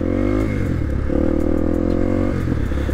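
A 1998 Honda XR 250R trail motorcycle idles and putters steadily through a slow tight turn, its single-cylinder engine close and continuous with a slight rise in revs midway and a faint clatter underneath.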